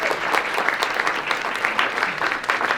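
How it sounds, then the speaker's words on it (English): Dense, continuous applause from a large crowd, loud and even throughout with no pauses. "I think he deserves another round of applause."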